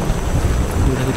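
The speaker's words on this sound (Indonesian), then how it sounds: "Ini lumayan kencang anginnya." Strong wind and rain roar steadily during a rainstorm at a forest campsite, a dense close rumble of gusts against the microphone with no pause.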